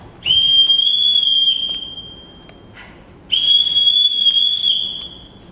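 A shrill whistle signal used to call a child, two long sustained blasts separated by a short pause, loud and close with no talking.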